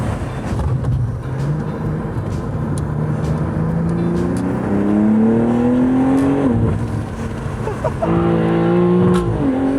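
A Lamborghini engine revs up loud and near, its pitch climbing steadily, then drops sharply as the car brakes, then picks up and surges again. Continuous engine roar with no talk.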